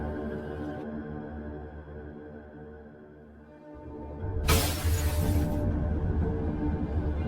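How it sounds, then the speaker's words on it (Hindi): Window glass smashed as a sound effect in a horror story, a sudden bright crash bursting over a low droning background, then fading into continuing rumble. "फिर वो पास में पड़ा एक सामान उठाता है और खिड़की का शीशा फोड़ देता है।"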